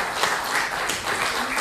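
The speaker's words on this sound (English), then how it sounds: "A round of applause is appropriate." A congregation at a Sunday worship service applauds, a brief steady wash of clapping that holds at an even level from start to finish with no pause.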